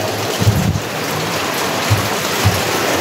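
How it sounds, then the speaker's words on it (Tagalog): Heavy rain pours in a steady, loud hiss on surfaces close by, with a few low thuds and bumps under the constant downpour. "Grabe po ang lakas ng ulan."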